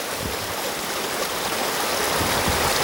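The Water of May, a river in Scotland, rushes steadily in a loud, continuous broadband wash with no pauses, heard up close.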